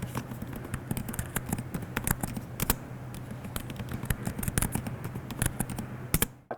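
Keys clatter in a steady, fast run on a Xiaomi Book Pro 14 laptop keyboard with a muted, tactile feel, dense close clicks continuing throughout.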